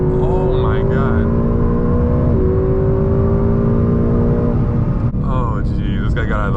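Ford Mustang GT accelerating hard up an on-ramp, a loud sustained engine drone rising steadily in pitch with gear changes, heard from inside the car as a person talks excitedly over it.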